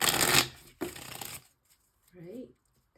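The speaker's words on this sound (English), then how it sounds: "let me shuffle the little cards that actually fit in my hands" Two bursts of small tarot cards being shuffled by hand, riffling crisply up close, followed by a short stretch of quiet and then a brief spoken voice.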